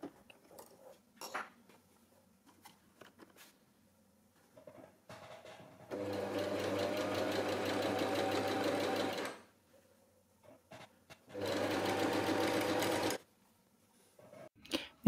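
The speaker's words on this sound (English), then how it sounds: "put the presser foot down and sew a couple of stitches and then backstitch" Sewing machine fitted with a wide hem foot stitching a hem, heard in two steady bursts of fast, even running separated by a quiet pause, with faint handling noises and fabric rustle between.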